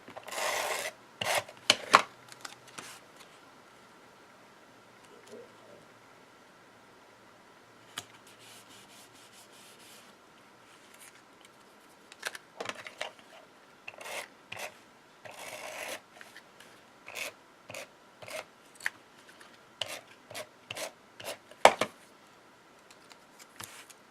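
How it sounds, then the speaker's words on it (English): Paper edges being trimmed for a handmade Christmas box card, intermittent scraping and cutting rasps in irregular clusters, close and fairly quiet, with pauses between strokes. "It's a little wider than what I need, so I'm going to trim off the edges."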